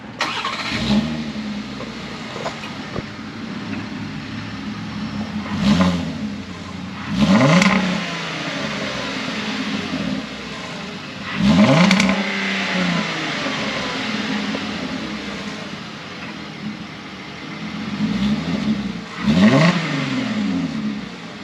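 A VW Atlas R-Line SUV with an aftermarket exhaust idles with a deep rumble, then revs sharply four times in spaced bursts, a throaty exhaust roar rising and falling each time.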